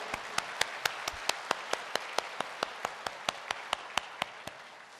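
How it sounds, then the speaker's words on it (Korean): A church congregation claps in steady unison, sharp even claps about four to five per second, continuing evenly throughout with no voices over them. "우리 다시 한번 박수로 영광 올려드리겠습니다"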